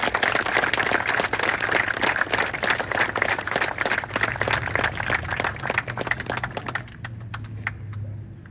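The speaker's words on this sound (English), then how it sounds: "Big round of applause for our 3 winners of the spelling bee." An audience at a 2021 fifth-grade graduation claps for spelling bee winners, a dense, lively patter of many hands that thins out and fades near the end.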